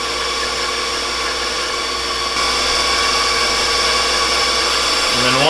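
A loud, steady electric mixer whirrs nonstop as cream cheese and half and half are beaten smooth for a strawberry cheese pie, the motor pitch shifting slightly near the end.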